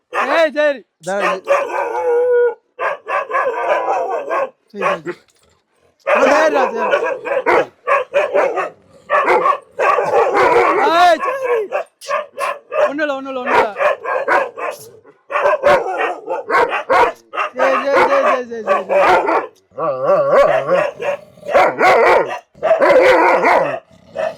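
Several Rajapalayam dogs bark loudly and almost nonstop, overlapping yaps and deep barks close by, with a person talking among them.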